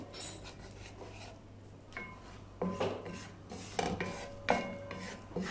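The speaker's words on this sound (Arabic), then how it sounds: "بنقلبهم شوي بس بنضل نحرك فيهم" Ground cashews and almonds being stirred in a pan with a utensil: soft scraping and rasping strokes, close and fairly quiet, growing a little more distinct toward the end, no talking.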